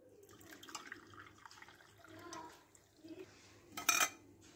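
A homemade cough and cold remedy is strained through a kitchen strainer, with liquid trickling and pouring, soft metal clinks against the pot, and a sharp clatter near the end.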